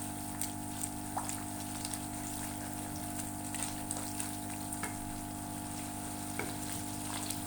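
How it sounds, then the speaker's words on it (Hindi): Potato and egg gravy with yogurt frying in a pan, a continuous close sizzle and bubbling broken by small scattered clicks and scrapes, with a steady low hum underneath. "अब मज़ीद मैंने इसे भूनना है"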